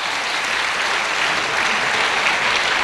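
A crowd claps steadily, dense applause sustained at an even level from start to finish.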